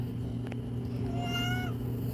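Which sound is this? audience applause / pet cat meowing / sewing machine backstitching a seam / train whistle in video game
pet cat meowing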